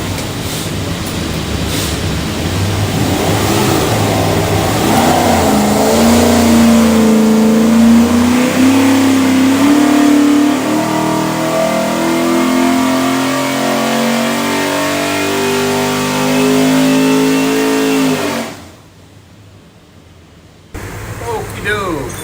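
A 427ci Ford V8 engine on a dyno revs up and holds a long, loud roar as it climbs and sustains, then cuts off abruptly, followed by brief ambient noise.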